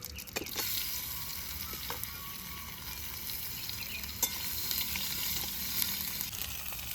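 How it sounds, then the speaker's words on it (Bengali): Potatoes and cumin seeds frying in a pan give a steady, close sizzle throughout, broken by a few sharp clicks and scrapes of stirring. "আলুটা ভেজে নেব, এই জিরা দিলাম, ফড়ঙে জিরা, আবার আলু দিয়ে দিচ্ছি"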